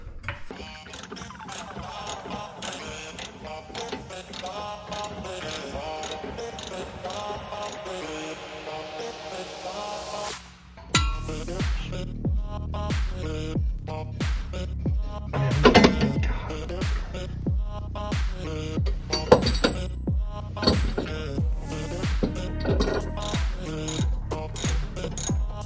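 A jack clicks with a rapid ratcheting rhythm as it raises a low-slung New Edge Mustang GT. Steady mechanical clatter continues throughout and grows louder and heavier in the second half.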